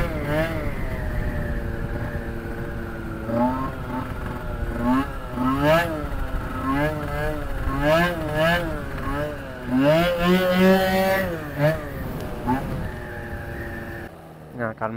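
A Piaggio Zip scooter fitted with a Stage6 kit revs repeatedly while riding, its engine pitch climbing and dropping in waves, heard close, with a voice talking over it.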